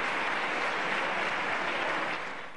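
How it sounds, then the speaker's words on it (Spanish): Parliamentary benches in a Spanish chamber break into steady applause, a dense wash of clapping that holds evenly and then tapers off at the end, with no voices over it. "Claro, solo su bancada puede aplaudirlo."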